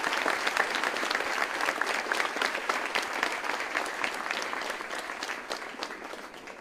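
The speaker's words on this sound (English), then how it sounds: "please join me in a round of applause for the Sully family." A large audience claps at an Army basic training graduation ceremony at Fort Jackson, a dense, steady round of applause that holds evenly for several seconds before easing slightly.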